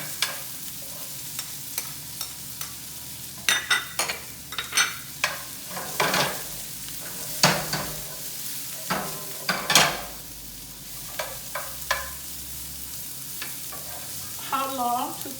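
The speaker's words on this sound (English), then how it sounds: "Okay, then I add about a cup of onions." Onions sautéing in a pan with bell pepper for a Thai three-flavors fish sauce: a steady sizzle under frequent clattering stirs and utensil taps, busy and close, with no talking.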